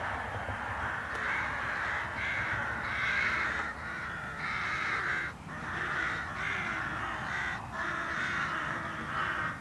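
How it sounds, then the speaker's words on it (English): Hooded crows caw repeatedly in harsh, rasping calls from high in the sky, several birds overlapping in steady bursts, fairly close, with no talking. "They'd much rather stay up high in the sky like that and crow and craw their protest."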